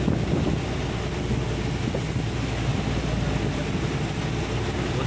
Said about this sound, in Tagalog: Sobrang laki ng alon guys